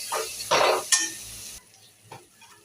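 Hot water from a kettle is poured into frying spice masala for a pabda fish curry, producing two loud bursts of sizzling hiss before the pan settles into quieter faint bubbling and a soft stir.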